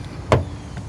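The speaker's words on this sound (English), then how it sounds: "let's listen to the sound of the closing door." A door on a 2026 Kia Sportage Hybrid SX Prestige shuts with one short, solid thud close by, followed by a faint, brief echo in a quiet setting.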